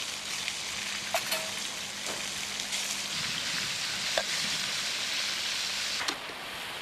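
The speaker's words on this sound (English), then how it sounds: "Cook the onions first, a bit more oil, and the trevally cut up into small pieces" Onions and small pieces of trevally fish frying in oil in a pan give a steady, dense sizzle with faint crackles and a few light clinks, continuous and close with no speech.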